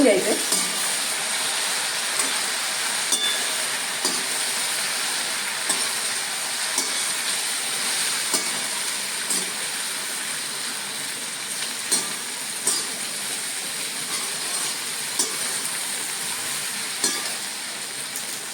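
Jackfruit pieces being stirred in a pan over a peanut-oil tempering with mustard, asafoetida, turmeric and red chilli, a continuous close sizzle broken by repeated scraping stirs and light knocks, no voices.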